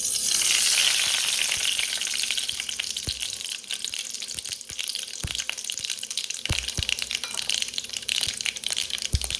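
Mustard seeds and urad dal fry in hot oil, a loud close sizzle with scattered sharp pops and crackles running throughout.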